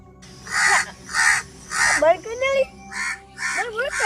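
Crows caw in a repeated series of harsh, evenly spaced calls, fairly close and loud, with a few voices talking in the gaps between caws.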